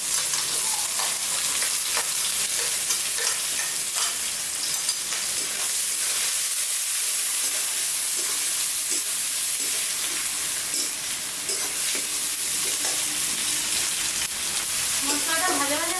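Chopped onion sizzles in hot oil already tempered with whole spices, a loud, dense, continuous frying hiss with crackling that fills the whole stretch without pause.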